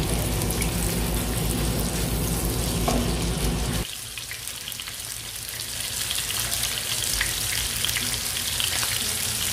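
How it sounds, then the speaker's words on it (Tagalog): Chicken pieces fry in oil in a pan in a home kitchen. A loud, dense sizzle fills the clip and drops to a softer, steadier crackle partway through. "ilagay na yung chicken. Iprito lang natin ito."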